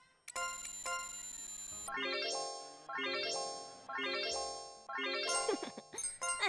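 A witch bell used in the video game Labyrinth of Refrain rings out as a sustained chime, followed by four repeated rising tonal jingles in a steady rhythm, clear and alone, ending in quick bright flourishes.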